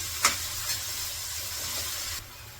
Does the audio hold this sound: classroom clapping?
no